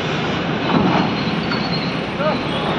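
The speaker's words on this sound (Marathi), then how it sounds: "तर आपली गाडी आता वजन काट्यावर चालली, बघूया आपण." A loaded goods truck rolls onto a weighbridge near a warehouse, giving a steady, dense engine and road rumble throughout, with some talk over it.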